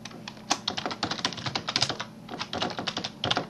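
Rapid, irregular clatter of keys on a computer keyboard, close and steady throughout, with no voices.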